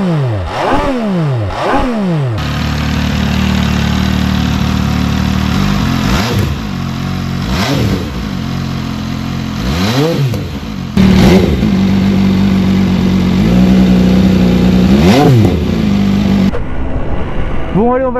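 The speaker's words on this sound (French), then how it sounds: "je vais vous faire écouter le bruit qu'elle fait." An MV Agusta Dragster 800 RR motorcycle from 2019 idles steadily close by while its engine is blipped into several sharp, loud revs that rise and fall at intervals, with a higher sustained rev held near the end.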